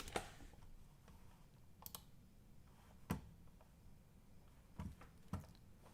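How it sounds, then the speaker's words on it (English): Typing on a computer keyboard, sparse scattered keystrokes and short bursts of clicks, close and quiet in a still room with no talk. "I know you can't see what I'm typing"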